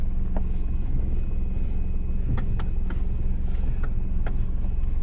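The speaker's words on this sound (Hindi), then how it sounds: "कट कट कट कट करके एक साउंड आ रहा है।" Rhythmic clicking from the steering assembly of a Tata Nano as the wheel is turned, a series of sharp repeated knocks over the steady low rumble of the idling engine, with no talking.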